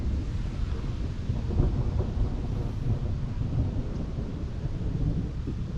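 Deep, rolling thunder rumbles continuously through an afternoon thunderstorm, heavy low booms rising and falling with faint rain and wind hiss underneath.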